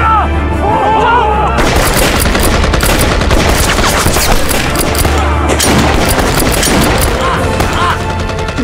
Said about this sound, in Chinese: 开枪吧！